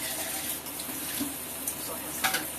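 Tap water runs steadily over canned pinto beans being rinsed in a kitchen sink, a constant hissing splash with a few brief clatters, close and moderately loud, with no talking.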